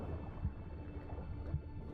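Sirens crying underwater in The Witcher 3 video game, heard as low, murky, muffled calls rising from a constant rumbling underwater ambience, with two slightly stronger pulses.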